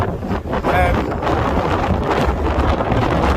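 Strong, steady wind roars and buffets the microphone throughout on a winter mountain hike in Snowdonia, with a gust swelling early on.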